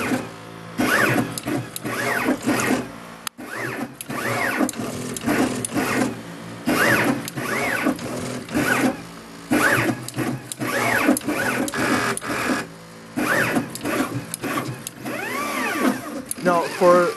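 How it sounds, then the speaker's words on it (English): A NeoDen 4 pick and place machine with a vision system placing electronic components, producing a busy run of whirring servo motor sweeps and mechanical buzzing in repeated bursts with short pauses, steady and close. "the machine allows you to do vision correction for multiple components at the same time"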